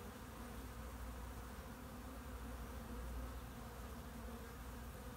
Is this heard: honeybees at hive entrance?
yes